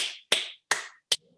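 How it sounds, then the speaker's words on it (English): A few crisp claps ring out close by, four sharp hits spaced about a third of a second apart, each with a short ringing tail and the last one shortest. "we're going to give you a group clap"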